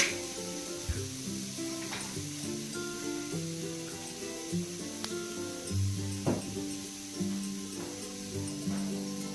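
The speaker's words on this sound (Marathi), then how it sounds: "लसूण पण त्याचं टरकाल काढून पातळ असं मी कट केलेला होता आणि तो पण या तेलामध्ये परतून घेत आहे" Thinly sliced, peeled garlic frying in oil in a tava with a little coriander, for a spicy Maharashtrian bazaar amti: a steady close sizzle runs throughout with a few sharp clinks of utensils against the pan.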